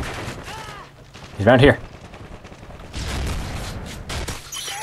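Call of Duty: Modern Warfare 3 free-for-all match with a shotgun in play, one loud blast followed by scattered firing and bursts, heard under a player's speech.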